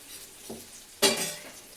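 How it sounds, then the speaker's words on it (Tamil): Diwali sweets drop into hot oil and start frying, a sudden bright sizzling burst about halfway through that keeps hissing steadily, following a faint clink just before, close and moderately loud. "பொரியுது பொரியுது பொரியுது"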